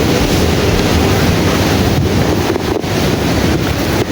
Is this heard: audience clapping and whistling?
no